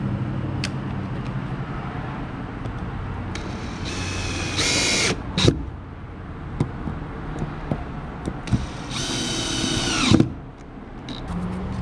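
Power drill driving screws to refasten deck plates on a tri-toon pontoon boat, with two sustained high-pitched drill runs amid scattered clunks and handling knocks, close by, with no talking.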